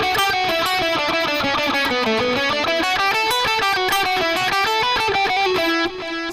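An electric guitar plays a fast descending sequence-of-threes lick from an outro solo. The notes are rapid, even and heavily distorted, stepping downward and then climbing, loud and alone.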